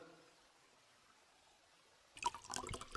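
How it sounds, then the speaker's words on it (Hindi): Liquor is poured into a glass: after a hushed stretch, a sudden run of splashy, trickling pours and drips starts close by and carries on to the end. "चलो डाल दारू।"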